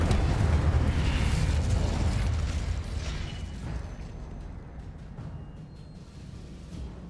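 The Incendio fire spell is cast in the Hogwarts Legacy video game, a loud, broad whooshing roar that stays dense for several seconds before slowly thinning, with faint crackles toward the end and no talk.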